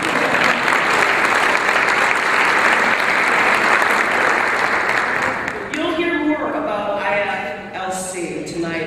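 Sustained applause from the audience at an interfaith leadership council's gratitude dinner, dense and steady for several seconds before thinning, with a voice starting to speak over the fading claps.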